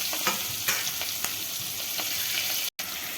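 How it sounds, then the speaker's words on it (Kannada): Curry leaves and onion sizzle in hot oil for a sambar tempering, a steady close crackle with a few sharper pops and stirring clicks and a brief cut near the end. "ಕರಿಬೇವು ಮತ್ತು ಉಳ್ಳಾಗಡ್ಡಿನ ಹಾಕೋಬೇಕು."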